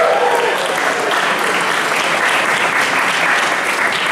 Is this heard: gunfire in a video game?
no